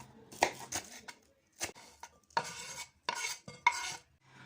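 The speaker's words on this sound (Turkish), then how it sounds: "Acı biberleri doğramaya başladım şimdi." A knife chops hot peppers on a cutting board in a kitchen, with irregular bursts of crisp cuts and scraping separated by short pauses, close and fairly quiet.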